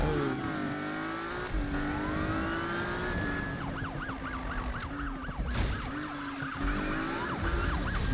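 Wailing police siren from a pursuing car in The Beast Inside, sweeping up and down in fast yelps over a steady engine roar, loud and continuous throughout.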